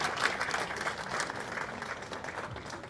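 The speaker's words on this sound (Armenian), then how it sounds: "Եթե զգում է, ծափ տվեք" An audience claps in steady, dense applause at a public speech in Tsaghkadzor, a continuous patter of many hands throughout at moderate level, with no talk over it.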